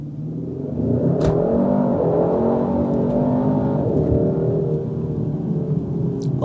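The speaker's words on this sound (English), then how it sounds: "foot on the brake, foot hard on the throttle" A 2021 Hyundai Sonata N-Line launches from standstill using launch control, its engine revving and then building into a loud, steady acceleration roar heard from inside the car, with no talk.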